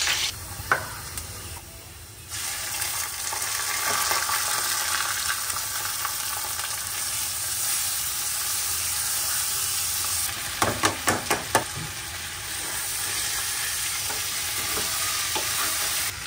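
Whole spices (cinnamon, green cardamom, bay leaf, cloves, black pepper and shahi jeera) fry in oil for pulao with a loud, sustained close sizzle, broken by a burst of sharp clattering knocks midway.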